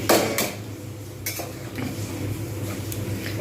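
A metal lid clanks onto a cooking pot of Bengali banana-flower curry, a bright clatter followed by lighter scraping taps over a low steady hum, close and clear.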